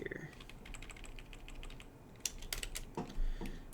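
Keys tapped on a computer keyboard while entering placeholder text into a Godot chatbox field, a quiet run of irregular clicks with a few louder strokes near the end, no talking.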